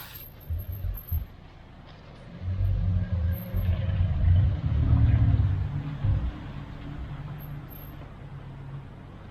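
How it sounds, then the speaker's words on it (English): An old Citroen car drives past on a street in Auxerre, France, its low engine rumble swelling over a few seconds and then fading away, with no voices. "One of my favorite old Citroen cars."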